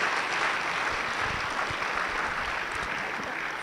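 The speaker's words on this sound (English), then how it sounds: "A round of applause for her, please." A graduation ceremony audience claps for an education partner's representative, a steady, even wash of applause from a large room that holds throughout without speech.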